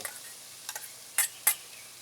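Peppers and onions cook in a camp pan, a soft steady sizzle with a few sharp scraping clicks of stirring spaced through it, close and fairly quiet, with no voices present.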